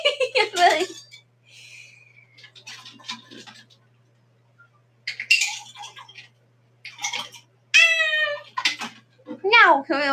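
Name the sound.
cat meowing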